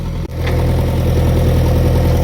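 A tractor loaded with cow-dung manure on a farm idles nearby with a steady, low, throbbing rumble, broken by one brief dropout near the start.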